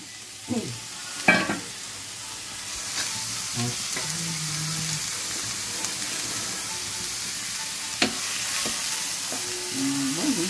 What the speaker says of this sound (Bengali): এটাকে আমি জাস্ট একটু হালকা করে ভেজে নেব, ফ্রাই করে নেব।